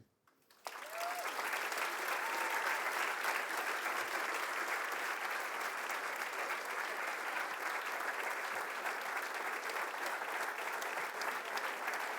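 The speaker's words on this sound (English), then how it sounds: "Ladies and gentlemen, let's give a round of applause to Abbey." Sustained applause from a large crowd at a golf charity event starts abruptly after a short pause and continues steadily, loud and even, to the end.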